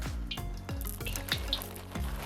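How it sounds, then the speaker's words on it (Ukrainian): Chicken liver fries in hot oil inside a heated kazan, a steady close sizzle broken by sharp clanks and scrapes of stirring against the pot. "Масло в казан додаю. О, казан гарно нагрівся. І закладаю всю печінку."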